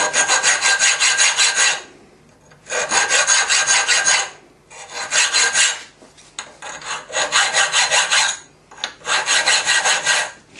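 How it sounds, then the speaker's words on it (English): Close, loud rasping of a safe edge file worked across metal held in a vise, in five long strokes with short pauses between them. "Nice safe edge file."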